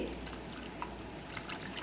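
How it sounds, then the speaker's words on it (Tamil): Hot water pours from a pot over almonds in a cooking vessel, a soft, close, steady trickle and splash lasting under two seconds at low level, with no talk over it. "கொஞ்சம் சுடு தண்ணி ஊற்றி"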